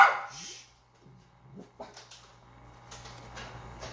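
Dogs barking in short, fairly faint bursts at a distance, spread over a few seconds in a quiet room with a low steady hum.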